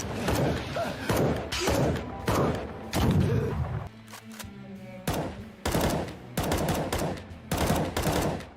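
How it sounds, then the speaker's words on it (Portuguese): Loud, sharp impact hits fire in rapid bursts, punchy thuds with a gunshot-like crack, separated by a brief quieter gap with a low rumble: Saitama's punches in One Punch Man season two. "Os socos do Saitama soavam como os tiros de CS"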